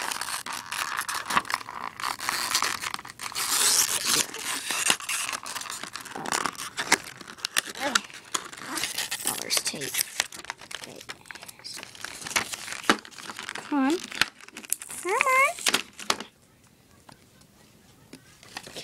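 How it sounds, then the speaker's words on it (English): Paper wrapping is torn and crinkled off a Skylanders Lightcore Warnado toy package, a long, close, continuous run of rustling, ripping and crumpling that stops abruptly near the end. "Pull this paper off."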